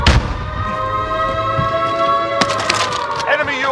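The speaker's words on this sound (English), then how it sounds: "Stun grenade out." A stun grenade goes off in the online shooter Call of Duty Warzone, with a sharp blast followed by a sustained high ringing tone and a second burst partway through, all loud and close.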